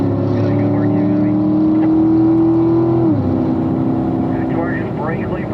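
A Corvette Z06 on a race track at a driving school, its engine droning loudly and steadily, then the pitch drops as it eases off, with someone talking over the engine noise.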